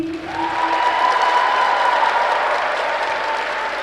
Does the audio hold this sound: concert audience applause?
yes